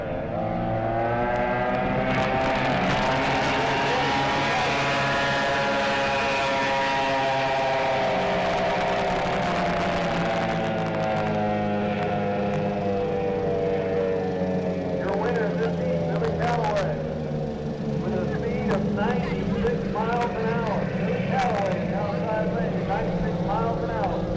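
Loud roaring engines of pro drag racing boats build and rise in pitch as they launch together on the water, with an announcer talking over the din.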